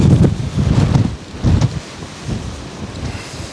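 Strong storm gusts in 40 mph winds buffet backpacking tents, an X Mid 2 and an MSR Elixir 2, coming as heavy low rumbling surges of wind noise that swell and ease in waves, loudest near the start and middle, with no voices.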